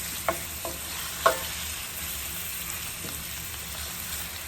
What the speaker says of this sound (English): I'm just going to go ahead and saute this for a few minutes